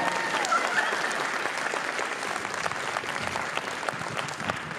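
Steady applause from a crowd at a cosplay contest at the Portland Retro Gaming Expo, dense clapping that holds at an even level throughout without pause.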